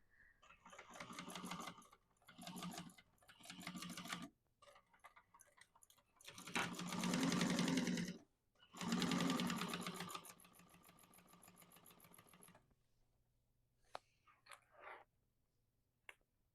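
A sewing machine chain-stitches down a raw fabric edge while making a modified Mercury bag, running in several loud bursts separated by pauses, followed by quieter clicks and handling noise.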